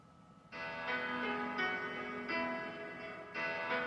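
A piano in a home studio plays a simple song with a deep bass tone, sounding five sustained chords or notes in a slow rhythm, each ringing out before the next strikes, loud and close.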